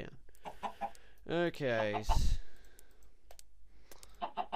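Chicken clucking in the video game Minecraft: a few short clucks in the middle, with someone talking briefly before and after.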